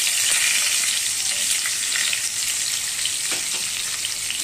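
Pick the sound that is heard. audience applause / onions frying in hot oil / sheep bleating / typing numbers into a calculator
onions frying in hot oil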